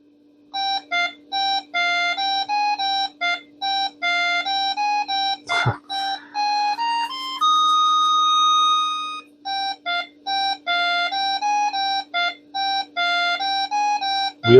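Chiptune-style music from the 1989 Wheel of Fortune computer game plays through the speaker of a 1992 386 SX-33 PC running Windows 3.1, loud beeping square-wave notes in rapid rhythmic bursts with one sustained chord midway, over a steady hum.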